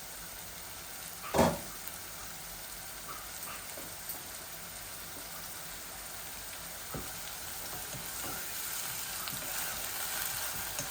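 Onions frying in a pan for a Bangladeshi chicken and potato curry, a steady soft sizzle running throughout with one brief louder clatter near the start and a few faint ticks.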